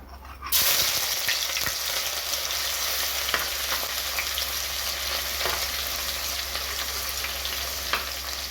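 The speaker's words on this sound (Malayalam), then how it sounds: "ചൂടായ എണ്ണയിലേക്ക് നമുക്ക് കടുക് ഇട്ട് കൊടുക്കാം. ചതച്ച് വെച്ചേക്കുന്ന വെളുത്തുള്ളി ഇഞ്ചി നമുക്ക് ഇട്ട് കൊടുക്കാം." Crushed garlic and ginger with mustard seeds dropped into hot coconut oil for a karimeen fish curry, an abrupt loud sizzle bursting in after a brief hush, then crackling steadily with light stirring, close up and alone.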